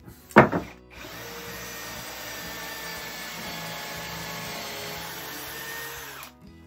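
Power drill boring into a wooden table while building solid oak double garage doors, a brief knock then a steady close motor whine lasting about five seconds before cutting off.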